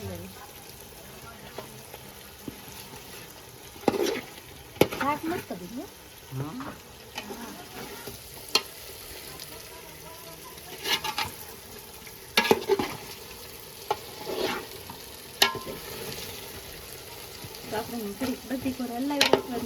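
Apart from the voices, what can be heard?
stirring food cooking in a pot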